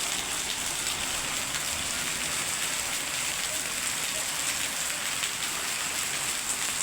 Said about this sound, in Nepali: असिनो जाजरकोटमा ठुलो बर्सात सहित असिना परेको छ।